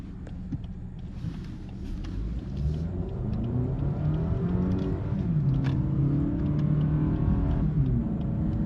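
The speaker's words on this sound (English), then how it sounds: "This sounds and feels like any random 4-cylinder eco-minded vehicle." Steady hum of a Lexus ES 250 AWD four-cylinder engine heard from inside while driving, with a low rumble and mild revving swells, no talking.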